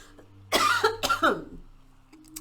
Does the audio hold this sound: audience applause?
no